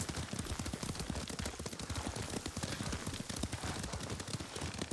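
Horse hooves clip-clop in a rapid, steady galloping rhythm while riding in Ghost of Tsushima, loud and close throughout with a dense wash of noise behind them and no talk.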